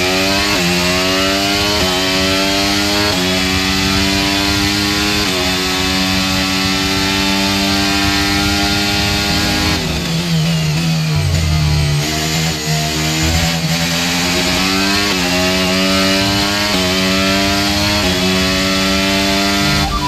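Formula 1 car engine in the F1 23 racing game at Yas Marina, a loud, continuous high-pitched scream that climbs through the gears in repeated rising sweeps, dipping briefly under braking before revving up again, with no talking.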